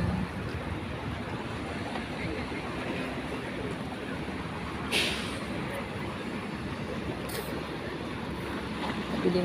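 At night on the Jeddah Corniche, sea waves wash in with a soft, continuous surf hiss that has a few brief swells. Faint wind rumble and distant bustle sit underneath.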